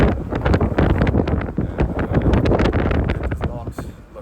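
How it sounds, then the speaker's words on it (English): Strong wind buffets the microphone on the open deck of a ferry, a dense, continuous low roar with gusty swells that stays loud throughout, with a voice faintly present beneath it. "It is rather windy."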